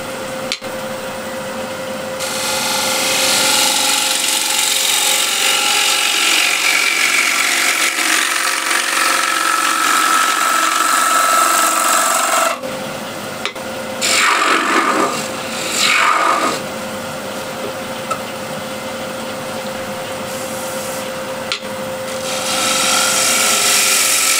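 A bowl gouge cuts a spinning wooden bowl on a lathe, a loud steady scraping hiss over the motor's hum, broken midway by a pause and a few shorter, rougher passes.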